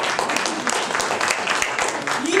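An audience claps at an engagement party, with brisk, crisp applause filling the room at steady strength throughout and a voice speaking faintly beneath it.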